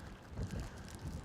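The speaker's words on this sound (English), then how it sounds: "It's very windy today." Gusty wind blowing across the microphone on a moving fishing boat out on the water in winter, a rough low rumble that swells and fades under the steady run of the boat.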